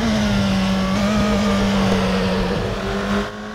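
Race car engine in the RaceRoom racing game, a steady loud drone with a strong low tone held throughout, pulling hard under acceleration with no voices.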